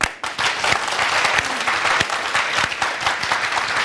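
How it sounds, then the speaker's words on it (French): A studio audience on a French-language talk show claps steadily and loudly, dense applause with occasional distinct close claps and faint voices mixed in. "applaudir aussi plus fort pour tous les pères"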